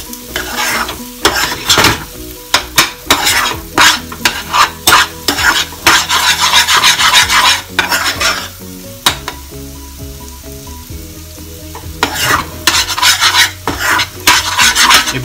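A spoon scrapes and stirs moong dal halwa with sugar in a pan, loud rasping strokes in an irregular rhythm against a faint sizzle, with a short pause midway.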